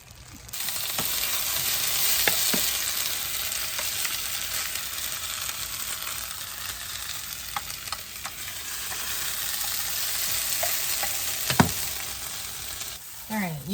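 Steak seasoned with Salt Lick steak seasoning browns in a pan, producing a loud, steady frying sizzle throughout with occasional stirring scrapes and clinks.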